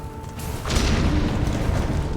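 Grenade blast in Silksong's Quais Profonds area, a sudden deep boom that swells into a dense, rumbling roar and holds loud to the end, with no talk over it.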